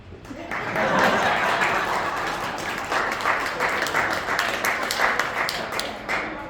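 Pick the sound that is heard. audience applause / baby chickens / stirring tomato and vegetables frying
audience applause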